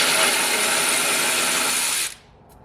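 A power tool, likely an impact driver or drill, spins out a 10mm bolt during an alternator replacement on a Gen 2 vehicle with a supercharger, a steady loud whir running about two seconds before stopping abruptly.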